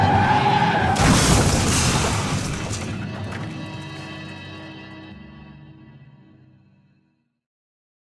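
Car skidding and crashing as a radio drama sound effect: a loud screech with a burst of smashing and shattering near the start, then a long rumbling tail that fades away to silence.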